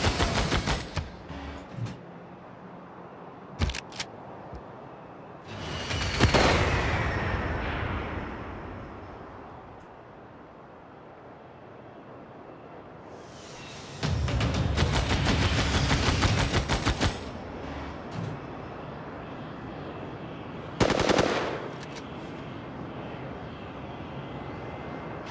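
Bomber assault in Civilization 6 with a Warhammer mod: aircraft engine drone builds, then bursts of rapid gunfire and explosions, loud for several seconds with quieter lulls between strikes.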